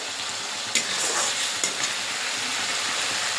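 Biryani spice masala frying in oil, continuous close sizzle with two sharp spoon taps against the pan as it is stirred, no voices.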